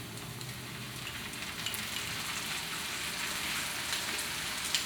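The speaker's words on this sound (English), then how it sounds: "usually I like to add a couple teaspoons of garlic to mine, let it cook down with the onion." Minced garlic and onion cooking down in a pot for shrimp fried rice: a soft, steady sizzle with fine crackling runs evenly throughout, fairly quiet and close, with no talk.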